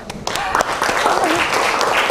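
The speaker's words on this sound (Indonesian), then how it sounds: "tepuk tangan" A classroom of students applauds after choosing a group leader, a dense wash of clapping mixed with voices and a cheer or two, sustained and fairly near.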